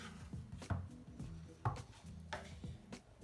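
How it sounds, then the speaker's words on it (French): A knife cutting a red onion in half, several soft, quiet thuds and scrapes against a board spaced unevenly over a few seconds. "Et enfin on va ciseler les oignons rouges. Donc on va le couper en deux."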